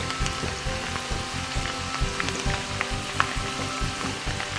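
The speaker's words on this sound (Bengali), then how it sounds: "সামান্য একটু ব্রাউন কালার করে ভেজে নিতে হবে" Dal (lentils) frying in hot oil makes a dense, even crackling sizzle that carries on at steady strength from start to finish, close up and with no voices.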